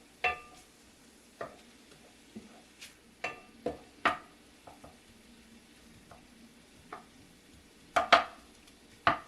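Chorizo hash is stirred in a frying pan, with a spoon scraping and knocking against the pan in irregular strokes over a soft, steady sizzle, close and fairly quiet.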